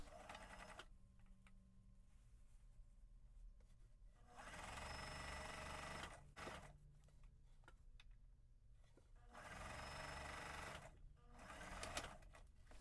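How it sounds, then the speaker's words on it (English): A sewing machine stitches a shirt seam in several separate runs, a close, steady mechanical whir that starts and stops, with quieter handling sounds between the bursts. "Now I'm going to sew 3/8 of an inch over here,"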